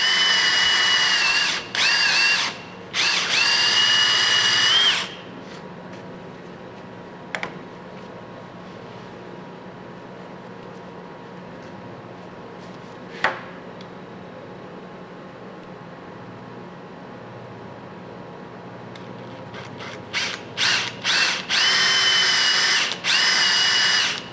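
Short bursts of a power drill running a 3/8 drill bit while making holes for a Western MVP3 custom rubber deflector, a few whirring spurts at the start and end with quieter background and faint clicks between.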